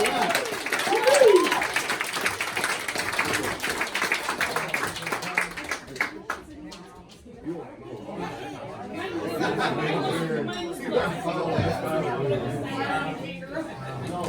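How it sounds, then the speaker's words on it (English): A crowd at a company Christmas party for a car dealership claps in a round of applause that starts loud and then fades into general chatter and talk. "Nice round of applause again for Robert."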